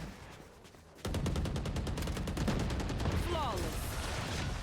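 Rapid bursts of automatic gunfire from a tactical shooter video game, a long loud string of close shots starting abruptly, with game sound effects layered over it.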